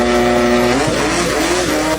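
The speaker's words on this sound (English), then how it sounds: "look at this engine and its enormous exhaust" A loud longtail boat outboard engine with a large exhaust drones steadily at close range, its pitch sliding down and then holding, with no voices.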